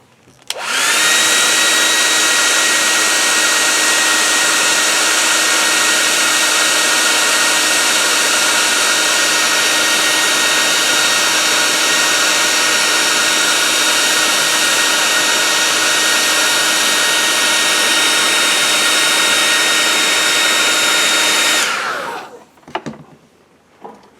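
A hair dryer blows steadily on paint on a wood carving, a loud, even whirring roar lasting over twenty seconds before it switches off, followed by a few faint handling sounds.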